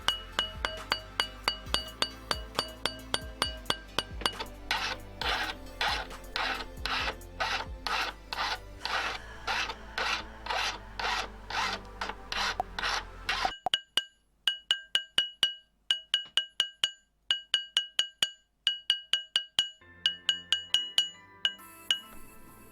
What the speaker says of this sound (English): I then use a mandrel once again and start filing the rough edges and inside.